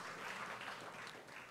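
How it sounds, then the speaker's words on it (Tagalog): Church congregation applauding together during a Filipino worship service, a steady broadband wash of many hands clapping that fills the whole short moment at moderate loudness, with no voices standing out. "Pumalakpak sa Panginoon."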